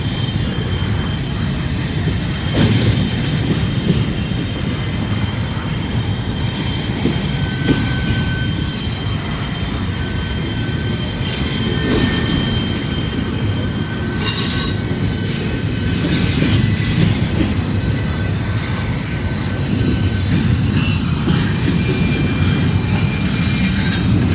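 Train wheels squeal in high, wavering tones as cars grind through a curve, over a steady loud rumble of rolling railroad cars that lasts throughout.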